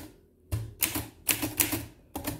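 Keys striking on an Underwood Universal manual typewriter, a quick run of sharp mechanical clacks with heavy thumps from the type bars, close and loud with brief pauses between strokes.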